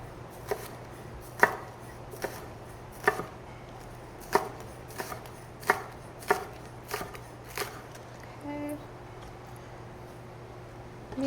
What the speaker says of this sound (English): Get our garnish ready. We're just going to do some of these, some scallions